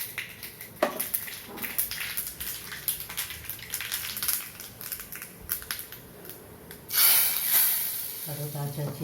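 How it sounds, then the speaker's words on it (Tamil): Crackling, hissing spatter of mustard seeds popping in hot oil for sambar, with a sharp louder burst of sizzle near the end. "அதுக்குள்ளே கடுகு தாளிச்சிக்கலாம்."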